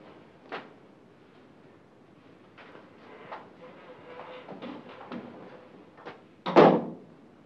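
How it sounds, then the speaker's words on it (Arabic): A door is shut inside an office, ending in one loud, close thud after several quieter knocks and shuffles in an otherwise hushed room. "من فضلك اقفل الباب."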